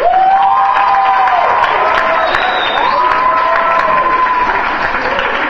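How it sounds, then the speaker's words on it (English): A youth group audience applauds loudly and continuously, with cheering, whoops and shouted voices riding over the dense clapping from start to finish. "So I think you should give yourself a round of applause."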